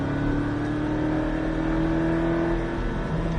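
A Porsche Cayman accelerates hard on a race circuit at Beltoise, Trappes, its engine droning and rising steadily from inside the car for the whole few seconds, with no talk.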